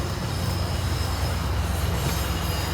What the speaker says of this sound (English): And there is the front runner train.